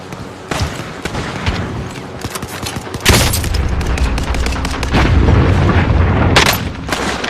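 Gunfire and explosions from the Call of Duty: Warzone video game, with a sharp boom at about three seconds, repeated loud blasts and bursts of shots crowding a dense, continuous battle soundscape.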